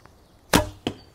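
Arrow loosed from an Angular Bow by Phoenixarchery, a sharp close snap of the release followed by a second short thud a moment later, outdoors in rain.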